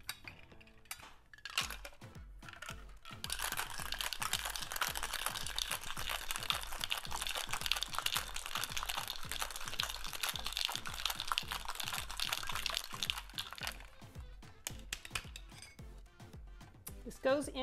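Ice rattles rhythmically inside a mixing glass as a sake piña colada is shaken hard for several seconds, a dense, close clattering that stops near the end, with a voice speaking briefly.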